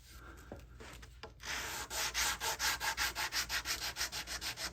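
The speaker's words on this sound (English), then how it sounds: "I'm going to go a little more sanding on this one" Hand sanding a thin wooden guitar top brace with 120-grit paper: a few light scrapes, then a steady series of rhythmic rasping strokes, close and fairly loud.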